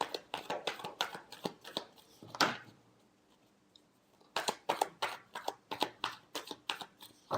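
Tarot cards are shuffled by hand in quick, rhythmic riffling bursts, close up and moderately quiet, broken by a brief pause before the shuffling resumes.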